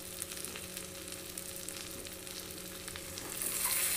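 Mixed bhindi and kundru vegetables with tomato cooking in a covered pan, a steady soft sizzle and frying hiss running throughout, rising a little louder near the end.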